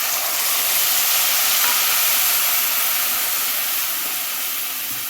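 Tamarind juice hits hot oil with fried chillies, curry leaves and peanuts while cooking puliyogare, giving off a loud, continuous, close sizzle that hisses evenly throughout and eases slightly at the end.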